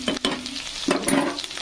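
Chopped onion fries in a pan with a steady close sizzle, punctuated by scraping stirs from a spoon.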